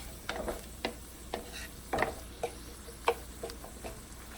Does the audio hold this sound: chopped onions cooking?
yes